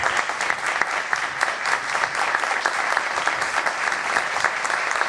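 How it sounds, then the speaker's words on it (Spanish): A crowd applauds steadily at the close of a talk at a speaker event, a dense, even wash of many hands clapping at moderate loudness, sustained without pause and with no voices over it. "Un fuerte aplauso, gracias Lara Cantarini"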